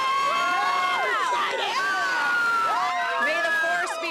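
An excited crowd gathered outdoors at a news event, cheering and shouting together in a continuous loud roar with high voices rising and falling throughout.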